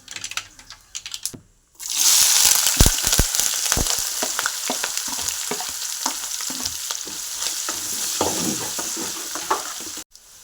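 Chopped garlic, ginger, shallots, curry leaves and green chilies dropped into hot oil for beef pickle, a sudden loud burst of sizzling after a short quiet start, then steady crackling frying with scattered stirring clicks.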